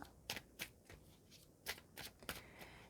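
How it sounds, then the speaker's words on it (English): Tarot cards being shuffled and pulled from a deck, a quick run of soft riffling snaps and slides, close and quiet, with several distinct flicks over a few seconds. "I'm just going to pull out one more card for you"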